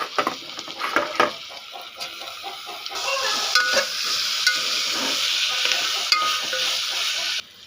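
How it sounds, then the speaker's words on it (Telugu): Garlic paste fries and sizzles steadily in a pan while a spoon stirs it, with a run of quick scraping strokes at first and then a continuous hiss until it cuts off. "వెల్లుల్లి పేస్ట్ వేసుకొని బాగా కలుపుకోవాలి పచ్చివాసన పోయేదాకా."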